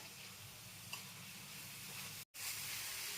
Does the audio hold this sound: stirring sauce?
yes